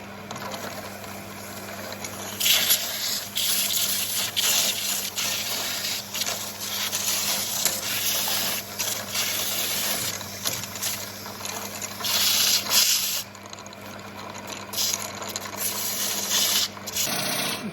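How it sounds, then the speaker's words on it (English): Steady abrasive rubbing of sandpaper against spinning wood on a lathe while turning captive rings, a continuous hissing scrape that swells and eases in bursts over a low motor hum. "Now a little bit of sanding before we go on."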